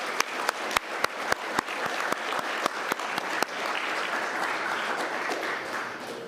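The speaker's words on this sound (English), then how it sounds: "Please give them all a round of applause." An awards ceremony audience applauds, the clapping sharp and irregular at first and then thickening into a steady, dense wash of applause that fills the room.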